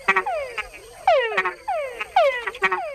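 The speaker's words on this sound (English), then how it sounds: "Male frogs make the added chuck sound to attract females." Male frogs in Panamanian wilderness make chuck mating calls, loud close descending chirps and chucks repeated in quick clusters, overlapping one another with no talk.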